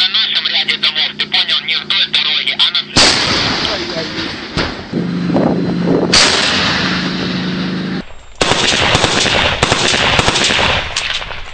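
Loud battle gunfire near a Ukrainian checkpoint in Nikishino, with sharp repeated bursts and heavy booming blasts crowding one another, broken by brief lulls, with voices heard among the shots.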